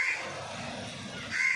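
Caged parrots giving two harsh, shrill calls, one at the start and one at the end, with a quiet stretch between them.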